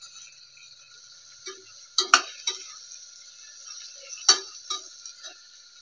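Green chilies go into a pan for egg biryani and are stirred, giving a few sharp metal clinks and scrapes over a steady background hiss, with louder knocks near the middle and later.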